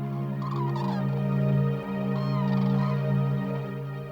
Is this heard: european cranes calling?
yes